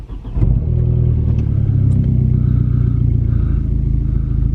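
A car engine cranks and catches close up, then settles into a loud, steady, rumbling idle that keeps going without talk.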